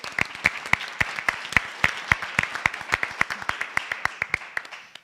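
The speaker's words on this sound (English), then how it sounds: "That's worth a round of applause." A school board meeting audience breaks into applause, a steady run of sharp, distinct claps from a modest crowd, fairly close and continuous for about five seconds, thinning slightly toward the end.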